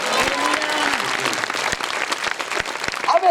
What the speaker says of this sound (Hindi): अरे जोर से मारो प्रभु जी के लिए ताली